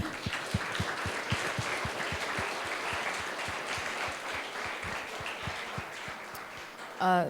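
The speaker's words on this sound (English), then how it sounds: "let's have another round of applause, please" Steady applause from a sizable audience at a talk session fills the whole stretch, dense clapping at moderate distance, ending with a brief voice at the very end.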